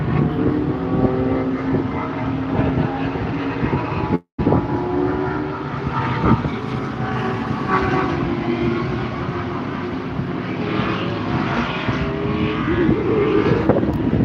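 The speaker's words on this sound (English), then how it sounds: "this plane just took off." A propeller airplane takes off near Sebring International Raceway, a steady loud engine drone holding for the whole stretch with only a brief drop, no talk.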